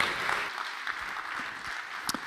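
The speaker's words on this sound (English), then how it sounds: "Kadialy, big round of applause." Audience applause at a community event launching a Black History Season in Camden, a steady patter of clapping that holds at moderate level for a couple of seconds.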